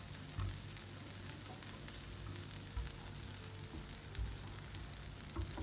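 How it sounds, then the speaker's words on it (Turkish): Okra frying in butter in a pan on the stove, a steady soft sizzle with faint crackles and a few low bumps, no talking. "Tereyağda bamya kızartmamız pişti."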